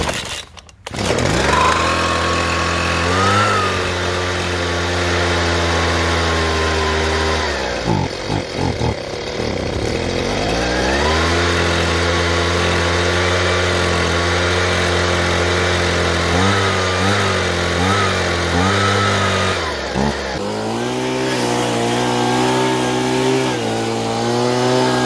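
A repaired Husqvarna 125B two-stroke leaf blower engine running loud and close, a steady buzzing drone that rises and dips in pitch as the throttle changes, with no talking.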